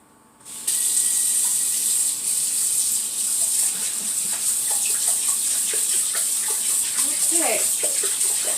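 Water runs steadily into a kitchen sink as cooked vegetables are drained, a loud continuous gush that starts abruptly and keeps on while someone talks.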